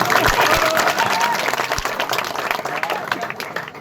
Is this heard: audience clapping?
yes